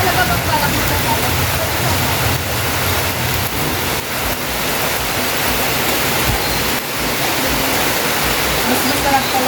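Steady, dense rain hiss fills the whole stretch, loud and continuous like a heavy downpour close by.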